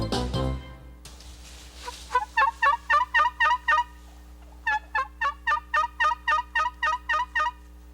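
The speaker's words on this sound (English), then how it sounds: "you have to sound just like a wild turkey" Wild turkey gobbling and yelping calls, loud and close, in two rhythmic runs of sharp repeated notes separated by a short pause, after a brief low thump at the start.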